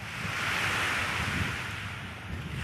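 Steady ocean surf washing onto a beach, a continuous broad rush of waves with some wind noise, heard alone without voices at a seaside spot with lamps and seating.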